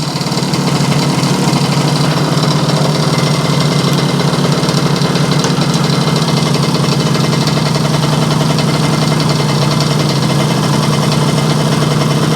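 Yamaha 100 Trailmaster motorcycle engine running steadily with a loud, close, buzzing idle and vibration, holding an even note while the gears are checked.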